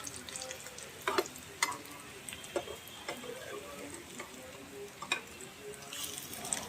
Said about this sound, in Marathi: अशा फ्राय पॅनवरती अल्टी पलटी करायच्या की झाल्या फ्राय